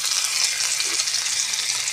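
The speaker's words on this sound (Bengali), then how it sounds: "এবারে ওই মাছ ভাজার তেলে দিয়ে দিচ্ছি কুচি করে রাখা রসুন" Chopped garlic hits hot oil left from frying sea fish, producing a loud, dense, continuous hiss of sizzling close up with no pause.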